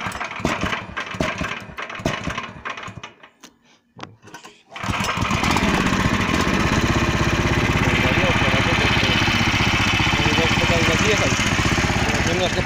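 An unfinished homemade loader's engine cranks with a few rough bursts, briefly falls almost silent, then catches and roars into a loud, steady, close running drone that continues to the end.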